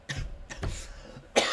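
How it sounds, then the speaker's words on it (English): A person coughs in a few short, harsh bursts right after laughing hard, close to the microphone, with no talking. "It just made me laugh so hard I coughed."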